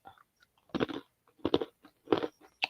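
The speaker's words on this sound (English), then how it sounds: "sorry for the crunching and the eating sounds" Close crunching and chewing of food while eating, in three loud bursts of bites with quieter chewing and small crackles in between.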